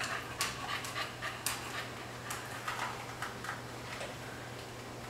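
A pet dog pants rapidly and close up, quick breathy puffs repeating in an uneven rhythm over a low steady hum, with no talking.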